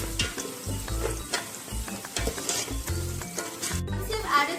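Tomatoes go into a sizzling pan for spicy chicken dum biryani and are stirred, a close crackling fry broken by rhythmic scraping and knocking of a spoon against the pan.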